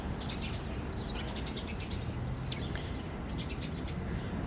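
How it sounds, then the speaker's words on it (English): Birds chirp and sing outdoors in Brooklyn, New York, with short high tweets repeating over a steady, loud background hum of city noise. "You can even hear birds singing, which is not usually the case in Manhattan."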